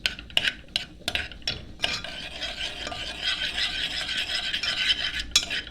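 Garlic for Egyptian koshari frying in a pan of ghee and oil, with a few sharp clinks of a utensil stirring at first, then a steady close hiss and sizzle that continues under the stirring.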